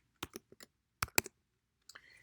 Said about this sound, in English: I'm really not typing well tonight